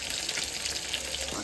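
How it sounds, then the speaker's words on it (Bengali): Fish frying in oil in a pan, a steady, close sizzle that fills the whole short stretch without any talking. "মাছটা ভাজা হচ্ছে"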